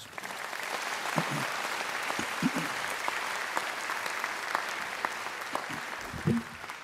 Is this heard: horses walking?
no